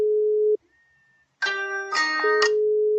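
A telephone tone sounds when placing a call: a steady tone for half a second, a pause of silence, then a brighter musical ringback tone and chime-like notes that run to the end, with no talk.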